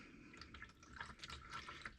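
Quiet, irregular dripping of motor oil from the drain plug of a 2022 Honda Ridgeline into oil, a few soft drops and trickles over a couple of seconds.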